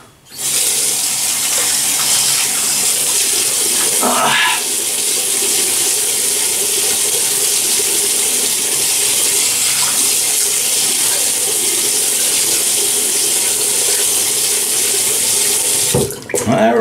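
Tap water runs steadily and loudly into a sink for a face wetting before shaving, a continuous close splashing stream with brief interruptions as hands move through it and a pause near the end.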